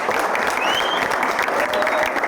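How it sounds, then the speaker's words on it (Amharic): Steady, dense applause from a crowd, continuous clapping throughout at moderate loudness with no talking. "ጭብጨባችን ሞቅ ይበላ።"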